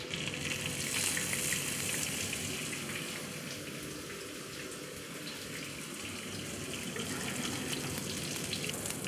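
Snails fry in a pan of butter browning to a nutty colour, giving a dense, steady sizzle that crackles continuously and close by for the whole stretch, without speech.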